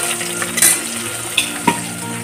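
Katla fish frying in a pan while being stirred, with steady sizzling and a few sharp clinks and scrapes of a utensil against the pan, close and fairly loud with no talking.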